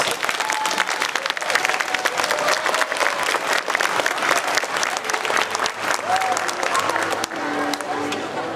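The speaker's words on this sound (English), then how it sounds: "How about a big round of applause for all of our performers?" Loud, dense applause from the audience at a middle school orchestra winter concert, sustained clapping for the performers with a few faint voices underneath, easing slightly near the end.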